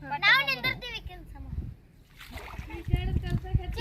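Children splash water while learning to swim in a village setting, with loud close splashing in two bursts and children's voices chattering over it.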